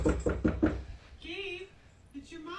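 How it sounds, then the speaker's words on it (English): Four quick, heavy knocks bang on a door, followed by a voice calling out from the other side. "we can repeatedly hear a bunch of banging noises that don't seem to be going away anytime soon"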